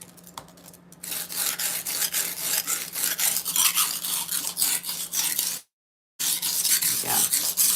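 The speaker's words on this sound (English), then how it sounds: "we'll go ahead and sharpen it like so" A kitchen knife is drawn over the coarse side of a wet sharpening stone under light pressure, giving close, continuous rasping strokes in a steady back-and-forth rhythm with a short silent break near the end.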